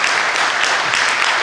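Audience applause at a Romanian church lecture, a dense, steady wash of many hands clapping at full volume throughout, with no talk over it.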